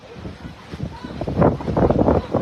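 Strong gusting wind in Oroquieta City buffets the microphone in loud, rising rushes, growing heavier toward the end.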